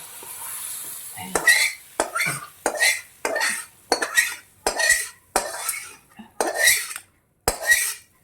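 Utensils scrape and clatter rhythmically in a pot of khichuri made with boiled dal and rice and fish head, about ten distinct close strokes with brief pauses and little sizzle underneath.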